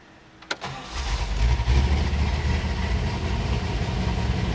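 A five-speed manual car engine starts with a brief starter crank, then catches into a loud, steady, low idle that continues to the end.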